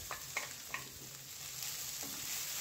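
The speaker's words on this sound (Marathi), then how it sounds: "नारळाचा चव पण व्यवस्थित परतून घेऊया तुपामध्ये।" Grated coconut sautéing in ghee in a pan for ukadiche modak filling, with a soft steady sizzle and a few light scraping stirs of a spoon near the start, close and fairly quiet, no talking.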